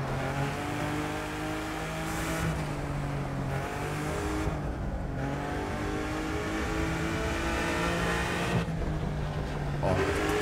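A video game car's turbocharged engine drones steadily from inside the cabin, its pitch rising and falling through gear changes with a constant whine layered over the rumble.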